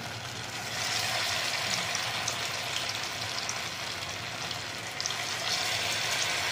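Small poha pakoras sizzle steadily in hot oil, a dense, continuous crackle and hiss that stays even and fairly close from start to finish.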